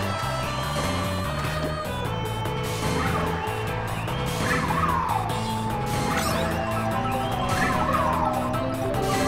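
Karts drift through the Mario Kart Tour video game and build mini turbos, with repeated squealing skids and rising boost tones layered over busy game music.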